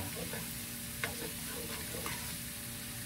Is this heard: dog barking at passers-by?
no